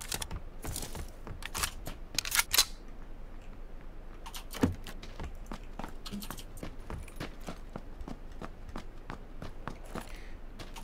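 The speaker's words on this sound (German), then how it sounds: "Von wem hört man denn da manchmal die Tastatur?" Computer keyboard typing coming through a voice chat during a Playerunknown's Battlegrounds match: quiet, irregular clusters of key clicks with a few louder taps, steady in the background throughout.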